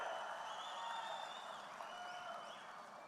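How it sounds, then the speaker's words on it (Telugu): A crowd applauding at a TDP political rally in Kadapa, heard as a steady, distant wash of clapping that holds at an even level throughout, with no voices standing out. "గట్టిగా చప్పట్లు కొట్టి హర్షాన్ని,"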